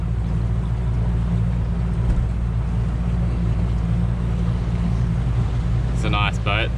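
A Formula 233 powerboat motors across open water with a steady, low engine drone and hull noise throughout; a voice briefly talks over it near the end.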